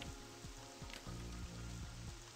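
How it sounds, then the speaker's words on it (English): Rain falls steadily in the video game Sel Quinta as a faint, even hiss, with a soft repeating musical pattern underneath. "now it's raining"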